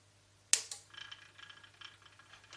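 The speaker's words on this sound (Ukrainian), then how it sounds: "Вентилятор ледве крутиться." A Kentavr device's cooling fan, dusty and not yet cleaned, barely spins. A sharp click is followed by faint, uneven rattling ticks, close and quiet against a low hum.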